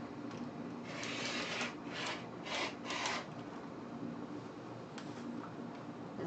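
Sewn patchwork fabric being cut into 4 cm strips, probably with a rotary cutter on a mat, giving a few soft rasping strokes in quick succession over a steady background hiss.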